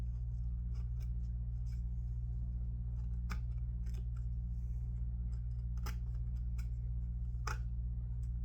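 Scissors cut out a piece for a Phoenix Waco 60 model aircraft build, giving a series of close, crisp snips spaced irregularly over a steady low hum in the room.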